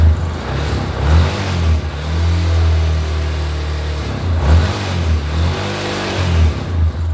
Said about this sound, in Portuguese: Vou acelerar um pouquinho aqui,